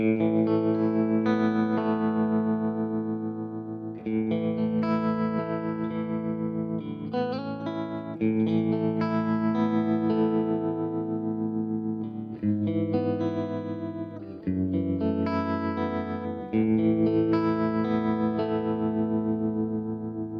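A bass guitar through a Sonicake Warped Dimension pedal on its tremolo setting plays sustained notes and phrases with a pulsing, wavering volume, steady and loud with brief pauses between passages.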